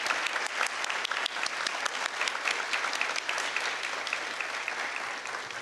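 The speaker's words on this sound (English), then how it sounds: "I would like them to get a round of applause." An awards-ceremony audience applauds steadily for several seconds, dense continuous clapping from a crowd filling the room.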